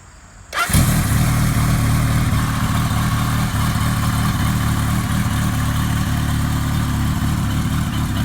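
A 1980 Kawasaki KZ1000 motorcycle engine catches and settles into a steady, smooth idle, its deep even rumble loud and close for about eight seconds with no talk.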